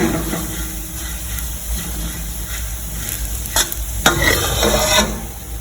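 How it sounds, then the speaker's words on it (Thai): Garlic frying in vegetable oil in a pan while being stirred, with loud, close scraping strokes of a spatula and a constant crackling sizzle, plus a few sharper metallic knocks near the end. "อันนี้เราก็เจียวกระเทียมเริ่มหอมแล้วนะคะ"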